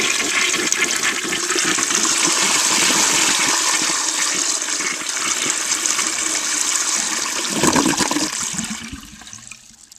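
A 1933 Standard Modernus toilet flushes right up close at the trapway and jet, a loud steady rushing gush that holds for about eight seconds before tailing off into a gurgling drain.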